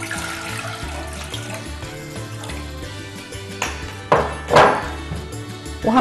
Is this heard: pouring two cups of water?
yes